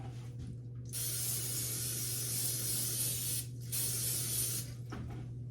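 Cooking spray is sprayed onto a scratched pan in a home kitchen: two long, close, loud hissing bursts with a short break between them, over a steady low electrical hum.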